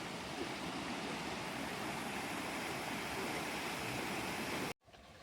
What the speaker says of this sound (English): This is Olympus River.